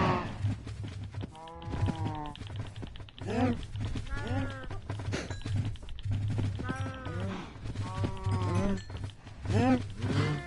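Minecraft cows on a Bedrock PlayStation farm, several drawn-out moos repeating one after another over steady background game noise and a low hum.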